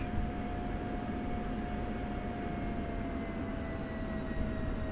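An F-16C Viper taxis at Nevada in DCS World, its jet engine giving a steady, loud, unbroken roar with a constant whining tone running through, no pauses or voices.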